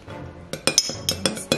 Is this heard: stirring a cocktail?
yes